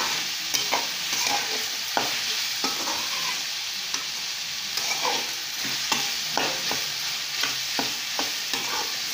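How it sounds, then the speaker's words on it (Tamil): A bottle gourd poriyal with chilli powder sizzles in a pan as a spoon repeatedly scrapes and knocks against the metal, giving rhythmic stirring strokes over a constant close fry hiss. "நல்லா வந்து இந்த மாதிரி கிளறிக்கலாம்."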